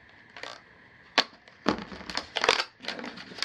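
Stiff plastic packaging being wrestled open, with a string of sharp crinkling, cracking and crushing bursts in irregular bursts, close and fairly loud, with no talk over it.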